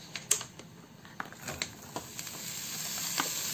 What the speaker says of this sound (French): Voilà, mes lardons sont bien frits.